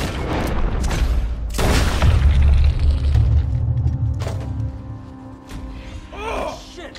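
A loud gunshot booms in Red Dead Redemption 2, followed by a second sharp blast and rumbling echoes that fade over several seconds.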